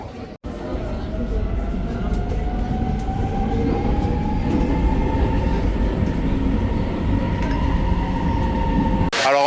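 Metro train at Rome Termini station, loud and close, with a steady rumbling roar and a rising whine as it moves, a brief sharp click at the start and a cut near the end, and voices mixed into the din.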